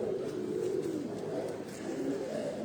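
Pigeons coo softly in a loft, low throaty murmuring rolling continuously and close, with faint rustling and background noise around it.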